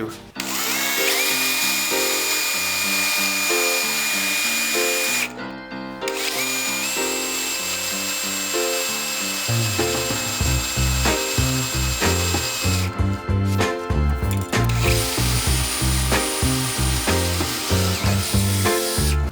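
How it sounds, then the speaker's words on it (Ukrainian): A power drill fitted with a 10 mm metal drill bit runs loud and close in long sustained whines that briefly stop and restart, then change into a rougher, pulsing grind as the bit bites into the material. "давайте ще спробуємо сверло по металу 10 мм"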